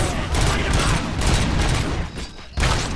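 Gunfire in the video game RoboCop: Rogue City, inside an arcade: loud, dense volleys of shots that continue almost without a break, then a short lull before another sharp burst, with a voice heard faintly at moments.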